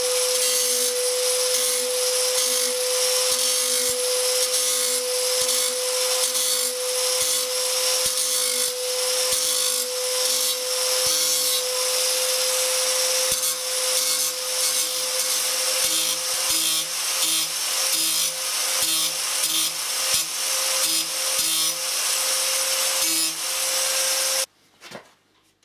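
A grinding disc sharpens the beveled edge of a Husqvarna CTH 151 lawn mower blade, a steady, close, high-pitched whine that holds for about twenty-four seconds before stopping abruptly, with no talking.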